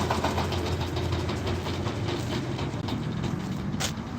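A steady Japanese mini tractor engine drones and rumbles throughout loading, loud and continuous, with no talking.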